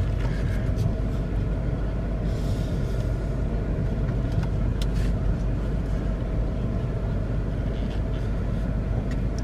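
A 2008 Buick Lucerne drives during a transmission test, giving a steady low engine and road rumble heard from inside the cabin, constant and fairly loud, with faint clicks over it.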